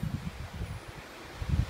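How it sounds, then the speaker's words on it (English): Wind gusts across a microphone outdoors, producing low rumbling buffets that rise and fall unevenly throughout, loudest near the start and end. "It's very windy here."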